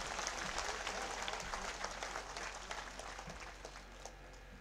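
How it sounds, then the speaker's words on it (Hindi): A large crowd at a Scheduled Caste and Scheduled Tribe convention in Taranagar claps to welcome politician Arjun Ram Meghwal, a dense, continuous patter of applause heard from some distance that gradually thins out. "सारा लोग जोरदार ताली बजाकर अर्जुन राम जी मेघवाल को स्वागत करो।"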